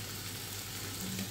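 Food fries in a pan on a home kitchen stove, a steady close sizzling crackle with a faint low hum underneath and no voices.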